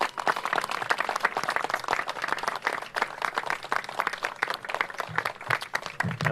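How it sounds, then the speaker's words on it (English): Applause for FDNY chiefs at a New York fire station gathering with the mayor, a dense, steady burst of many hands clapping, fairly loud and unbroken for several seconds. "Let's give them a big round of applause."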